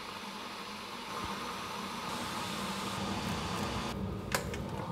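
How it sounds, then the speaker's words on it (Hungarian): An electric kettle heating water, a steady broadband rushing hiss that swells slightly louder partway through, heard close and alone with no talking. "amíg a víz forraló egyre hangosabban forralja a vizet"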